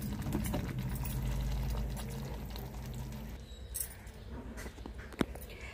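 Ghee-fried dry fruits tipped along with their ghee into a pot of jaggery rice, with a soft sizzling pour for the first few seconds, then a quieter stir and a single sharp clink near the end.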